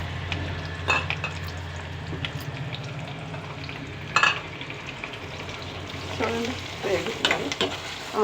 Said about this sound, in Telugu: ఆనియన్స్ కూడా వేగుతున్నాయి చూడండి అన్నీ కలిసి వేగుతున్నాయి